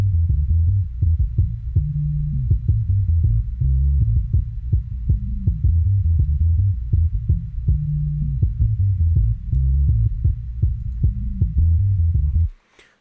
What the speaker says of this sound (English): filtered the sample out so that the bass sounds like this here.